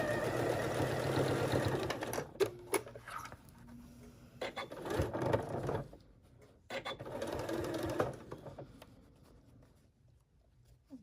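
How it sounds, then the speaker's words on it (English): A sewing machine stitching a seam around a fabric Halloween treat basket hums steadily in close, loud bursts, stopping briefly between runs and then starting again, with small clicks and rattles as the fabric is turned. "use a 3/8 inch seam allowance, or basically the width of my presser foot here, to stitch all the way around my bag"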